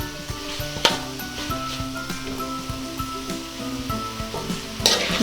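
Beef frying and being stirred in a pan gives a continuous close sizzle broken by scraping stirs, with a sharper clatter near the start and again near the end.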